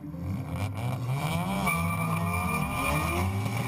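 Drift cars, a Nissan R32 Skyline and a Mazda RX7 in a street-class final, roar loud and close with rising and falling engine revs and rough tire noise running continuously.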